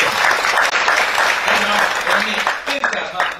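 Congregation applause at a midweek worship service: sustained, dense clapping throughout, with a voice speaking over it.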